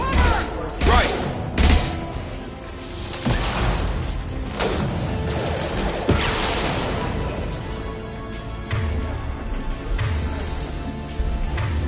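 Rifle fire in the video game Mass Effect 2, a series of sharp, loud shots and thumping bursts spread across a busy combat soundscape with game effects throughout.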